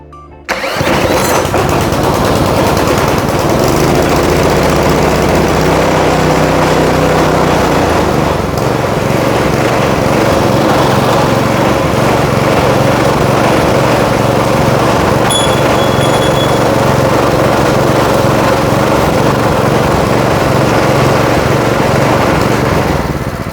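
A previously locked-up 212cc Honda clone small engine fires up and runs at wide open throttle, a loud, steady, close-up roar that holds for over twenty seconds.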